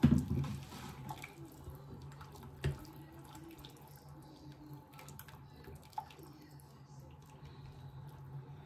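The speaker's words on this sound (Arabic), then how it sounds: "دابا غنضيف الماء السخون الماء الكافي" Hot water is poured into pasta frying in a pan with chicken, giving a short burst of splashing and sizzling at the start, then quiet bubbling with a couple of faint clinks.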